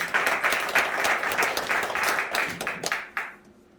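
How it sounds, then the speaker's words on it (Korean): Sustained applause from the audience at a civic association's annual general meeting, many hands clapping steadily at close range before tapering off into quiet near the end. "우리 대표장님께 박수 한 번만 더 부탁드립니다."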